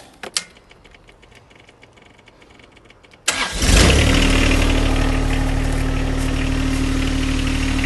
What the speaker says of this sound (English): Now we'll start it up so we have hydraulics.